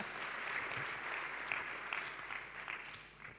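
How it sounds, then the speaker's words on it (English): Applause from a summit audience for a panel of speakers at a pension conference, a dense, steady wash of many hands clapping that fades slightly toward the end. "Let's give them another round of applause."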